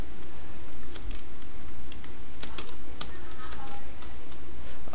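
C++ code being entered on a computer keyboard: rapid, uneven key clicks in close succession over a steady background hum, continuing throughout.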